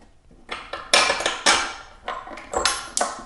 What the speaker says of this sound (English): these spacers are just going to fall